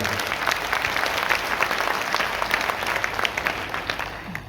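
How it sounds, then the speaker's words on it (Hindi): A seated crowd at a community gathering claps with both hands raised, a brief burst of dense, even applause heard up close. "आप दोनों हाथ ऊपर करके ताली बजाइए जरा"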